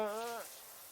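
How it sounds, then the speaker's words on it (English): Rain in the visual novel game Baldr Sky makes a steady, soft hiss that continues through the clip. A brief falling tonal sound fades into it at the start. "When I open my eyes to the sound of rain"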